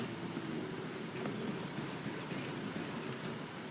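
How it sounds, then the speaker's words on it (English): Steady rain falls in the Lust level of the video game Ultrakill, altered by a mod, a continuous dense hiss of drops with no gaps, moderately loud and heard alone. "this mod also makes it rain in Lust for some reason"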